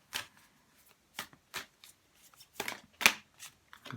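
Moonology oracle cards being shuffled by hand, a run of short papery riffs and flicks in an irregular rhythm, close and fairly quiet with no talking.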